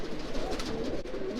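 Racing pigeons coo steadily in a small loft, a continuous low, throaty murmur from several birds close by with no talk over it.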